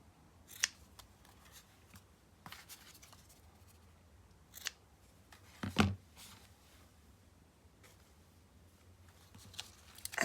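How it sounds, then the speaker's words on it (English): Scissors snipping excess thread ends short while embellishing a handmade butterfly journal, several sharp separate cuts spaced apart over quiet handling noise, close and clear with no speech. "now I'm just going to cut them shorter"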